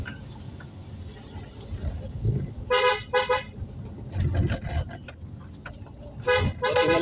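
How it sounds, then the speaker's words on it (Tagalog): A car horn honks in short bursts, two quick toots and then another, over the low rumble of a vehicle engine on a steep, one-way uphill road. "Busina lang, busina."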